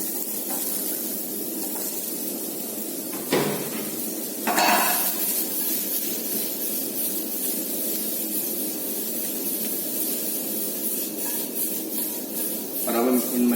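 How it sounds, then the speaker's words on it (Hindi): Mushrooms go into a pan of softened onions, setting off a steady, moderately loud sizzle and hiss that runs throughout, with a few louder clatters of a utensil against the pan. "Now I am gonna add mushroom to this."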